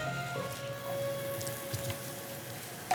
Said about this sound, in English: Get that sizzle going in there.